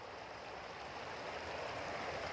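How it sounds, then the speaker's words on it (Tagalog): Running water of the Katara river: a faint, even, continuous rushing wash with no breaks and no voices. "It's running water."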